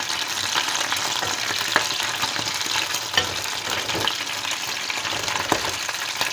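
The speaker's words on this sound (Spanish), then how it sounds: "Ahora tenemos el pollo a medio freír." Half-fried chicken pieces sizzle in a pan for a home-style chicken stew, giving a steady, dense crackle with small pops throughout at close range and no talking.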